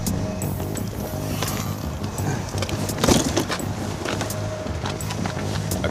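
Car keys jingle in a brisk metallic clatter close by, mixed with a running car and other vehicle noise, with one louder rattle in the middle.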